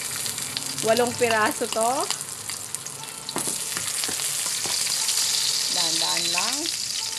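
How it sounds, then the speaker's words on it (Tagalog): Crushed garlic sautés in hot oil in a pan for egg and string bean adobo, a steady frying sizzle with a few stirring clicks, while someone talks over it at the start and end. "Gisa na natin to ngayong bawang na pinitpit"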